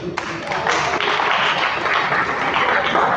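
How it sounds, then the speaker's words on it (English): Audience applause for a presenter at a women's club 20th anniversary seminar, a continuous broad wash of clapping from a fairly large crowd at moderate distance. "Please give her a round of applause."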